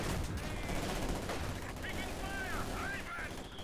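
Bursts of rapid gunfire from Panzers and infantry in a Company of Heroes 2 battle rattle on continuously under a caster's steady commentary, with whistling shells and distant explosions.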